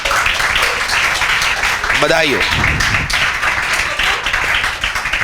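Classroom applause for a student: steady dense clapping from a group runs throughout, with a brief spoken line from a man cutting in midway.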